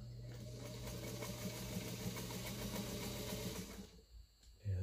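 A vintage White 305 sewing machine runs steadily, its needle chattering in a fast even rhythm over a constant motor hum, close and loud, then winding down and stopping near the end.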